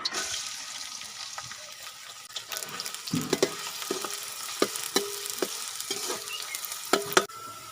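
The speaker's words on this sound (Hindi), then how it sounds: "घ्यो साढ़ा गर्म थी गया इसने विच असां वसल पसा" Onions frying in hot ghee in a pot for a beef trotter curry, with a steady sizzling hiss and repeated scraping stirs of a spoon, close and fairly loud, with no talking.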